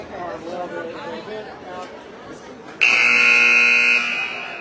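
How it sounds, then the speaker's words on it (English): A loud, steady electronic buzzer blares for about a second at a girls' varsity high school basketball game, cutting in over crowd chatter and commentary before the talk carries on. "I don't know why that buzzer came up unless there's a warning."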